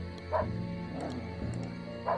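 A dog in a video game barks and yips in short bursts, three spaced calls over steady low background game sound, moderately faint.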